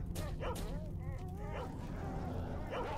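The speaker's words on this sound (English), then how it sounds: "I hear dogs." Dogs barking in S.T.A.L.K.E.R. Shadow of Chernobyl, several short barks and yips spread across the moment, some farther off, over a steady low game ambience with a voice murmuring faintly beneath.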